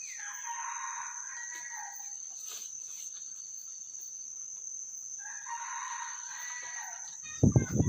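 Rooster crowing outdoors, a free-roaming bird heard near a trapping setup, with two drawn-out crows several seconds apart over steady insect and cricket hum, then a brief close rustle at the end.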